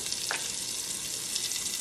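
Chopped onions sear in a hot pan for a Filipino salmon sinigang, giving a steady close hiss and crackle with a brief stir near the start and no voices.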